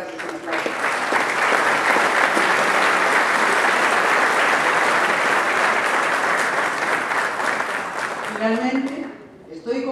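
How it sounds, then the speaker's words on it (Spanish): Audience applause from an event crowd, a dense, steady roar of clapping that swells for several seconds, then tapers off as a voice begins speaking at the end. "Un aplauso"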